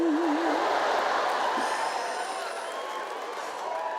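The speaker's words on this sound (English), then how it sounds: "You're clapping." A stand-up comedy audience claps and cheers after a comedian's made-up song, a dense, steady wash of applause with a brief tonal note at the start, fading slightly toward the end.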